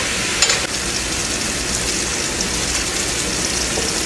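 Onions sautéing in a pan give off a dense, loud, continuous sizzle with one brief stirring clatter near the start.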